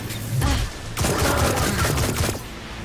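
Rapid bursts of gunfire in the Destiny 2 video game, loud dense volleys that start, break off briefly, then resume in a sustained fusillade with booming impacts, heard alone without speech.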